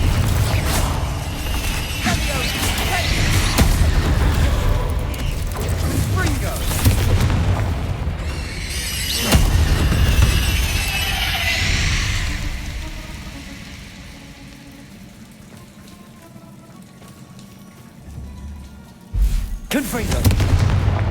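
Confringo fire spells blasting in the video game Hogwarts Legacy: heavy booming explosions with rumbling debris, loud and close at first, then fading to quieter ambience before a final sharp blast.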